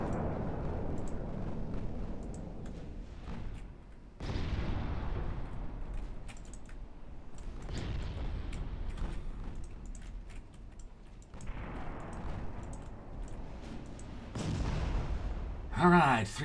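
Heavy naval guns of the battleship Fuso boom in Ultimate Admiral Dreadnoughts, several deep blasts a few seconds apart, each rolling off into a long fading rumble, with someone talking between salvos.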